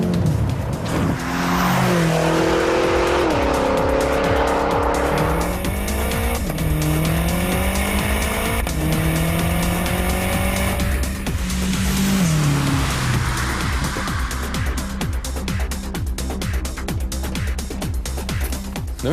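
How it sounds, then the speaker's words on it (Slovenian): BMW M5 with a 560 hp (412 kW) turbo V8 revving hard through rising gear sweeps, tires squealing under acceleration; loud, close and continuous, no talking. "Sedim v novem BMW M5, ima 560 konjev, to je 412 kW in turbo V8."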